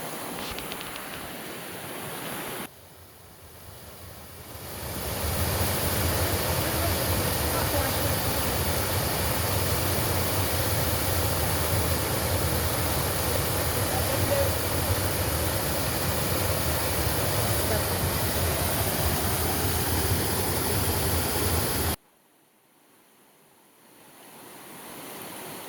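Two forest streams meet in a cold, clear confluence, producing a steady, fairly loud broadband rush of flowing water that fades in after a few seconds and cuts off near the end.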